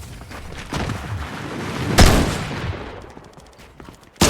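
Bursts of gunfire in the basketball video game NBA 2K23 rattle through a dense, noisy mix, with one sharp loud blast near the middle and quieter scattered shots trailing off.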